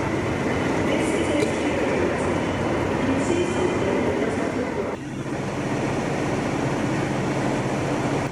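A Class 37 diesel locomotive at Carlisle station, loud and close, giving a sustained rumbling engine drone that shifts down in tone partway through, with a broad rushing noise over it.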